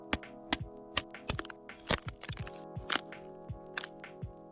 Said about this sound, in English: Sticks snapping, which I can use for some snares or some rim shots.